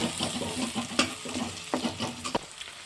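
Chopped capsicum is stirred in hot oil for pav bhaji, with a steady sizzle and scraping stir strokes.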